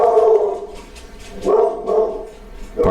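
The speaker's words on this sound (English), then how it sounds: "pardon my dog" A pet dog barks a few times nearby, with short separated bursts over a faint indoor background.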